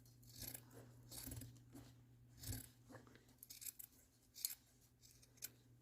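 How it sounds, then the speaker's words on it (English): Scissors snip through felt on a styrofoam craft gnome in a series of close, soft crunching cuts with short pauses between them, quiet and without talk. "we're going to cut the felt even with the bottom edge"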